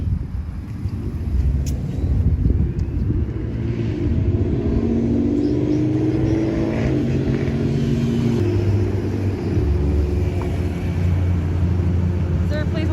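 Road traffic with cars passing, a continuous low engine rumble and tire roar that swells and fades as vehicles go by, loud and close, with people talking over it.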